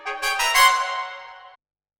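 Programmed MIDI orchestral build with straight-line, evenly ramped note velocities, a short swell of several bright attacks that sustains and then cuts off abruptly.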